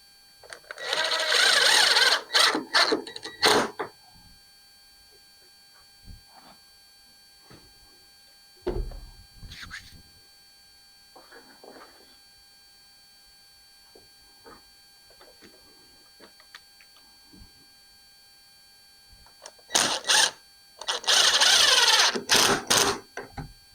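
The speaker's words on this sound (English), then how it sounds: "So I'm just going to screw them together now." Butt-jointed wooden shelf supports being screwed together: loud bursts of a power drill-driver at the start and end, with quieter handling clunks and knocks in between.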